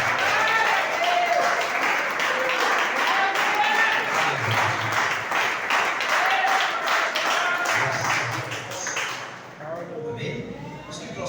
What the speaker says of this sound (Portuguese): As palmas que louvam ao Senhor.